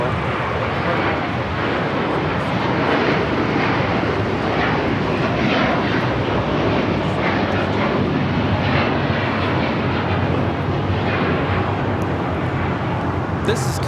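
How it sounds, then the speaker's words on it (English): Qatar Airways Airbus A350-1000 taking off from Los Angeles LAX bound for Doha: a continuous broad jet engine roar holding steady throughout, with a voice talking over it. "740 taking off to Doha on the A350-1000"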